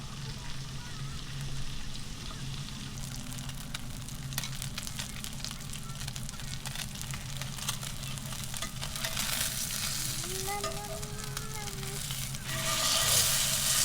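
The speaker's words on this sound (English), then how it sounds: "Next, let's grill the salmon. I'm gonna use the same oil," Salmon fries in a pan of oil and butter at a campsite, a steady close sizzle and crackle running throughout with faint stirring, no talk, growing a little louder near the end.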